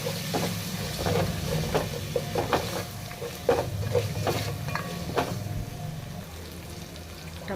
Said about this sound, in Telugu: ఇప్పుడు ముందుగా కట్ చేసి పెట్టుకున్న టమాటాలు ఇందులో వేసుకోవాలి వీటన్నిటిని కలుపుకోవాలి